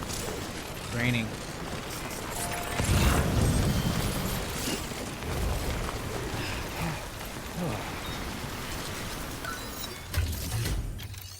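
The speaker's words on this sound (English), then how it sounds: "It's raining" Rain falls in the video game Death Stranding, a steady hiss of drops on surfaces beneath mechanical clicks and thumps, with someone talking at times over it.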